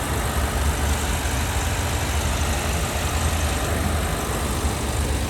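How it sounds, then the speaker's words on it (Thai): A 2013 Chevrolet Sonic 1.4 LT engine idles at a steady, even rumble, close by and unchanging, with no voices. "เครื่องยนต์เสียงเงียบนะคะ"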